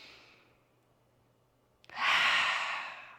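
A deep breath during a mom-and-baby yoga class: a soft airy inhale fades out, then after a brief pause a loud, full exhale rushes out close to the microphone.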